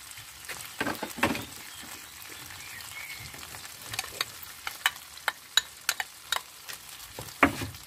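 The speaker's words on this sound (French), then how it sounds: "je remue. On va mélanger un peu tout ça." Onions and herbs being stirred in a cooking pot for a Moroccan chicken tajine with lemon and olives: a soft background sizzle broken by a run of sharp, regular spoon scrapes and clacks that grow more frequent toward the end.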